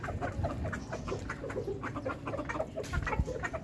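Domestic chickens and a rooster cluck and squawk close by in a backyard coop, with dense, overlapping calls and rustling throughout and no clear talking.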